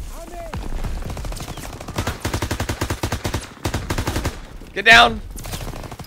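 MP40 submachine gun fire in Call of Duty: WWII, several rapid automatic bursts loud and close, with shouted voices and a brief loud blast near the end.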